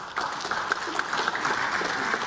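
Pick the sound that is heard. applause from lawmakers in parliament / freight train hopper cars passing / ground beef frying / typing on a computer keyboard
applause from lawmakers in parliament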